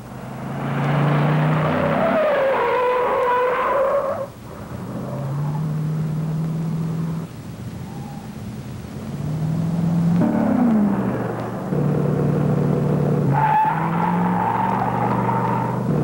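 A 1973 Buick GS Stage 1 with a 455 engine drives hard, its engine rising and falling through several loud revving passes, with tires squealing during the runs and no talking.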